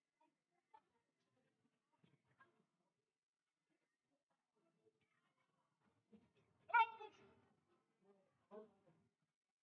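A cat gives one clear meow at close range in a quiet room, followed a moment later by a shorter second call, with only faint scattered sounds between.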